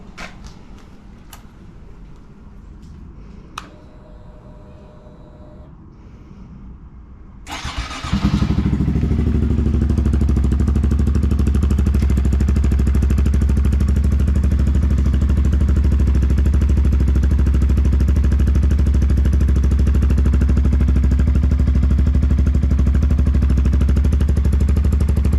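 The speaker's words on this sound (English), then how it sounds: "let me do a cold start for you guys, because man, this Yoshimura exhaust makes this bike sound amazing on a cold start" A 2023 Honda Grom fitted with a Yoshimura exhaust cold-starts after a few quiet seconds of light clatter, then settles into a loud, steady, close-up idle that runs unbroken to the end.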